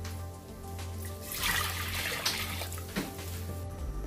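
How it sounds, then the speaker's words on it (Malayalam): Water is poured into a pressure cooker holding rice, a continuous close splashing stream of several seconds with faint trickling. "8 കപ്പ് വെള്ളം ഒഴിച്ചു കൊടുക്കുക."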